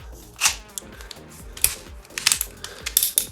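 Chuck of a Bosch GSR 12V-35 brushless compact drill-driver clicking as it turns, giving irregular sharp mechanical ticks and ratchet-like clacks that come close and loud in uneven bursts.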